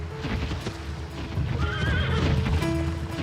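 A horse neighs with a rising and falling whinny over a steady clip-clop of hooves, loud and close, with no talking.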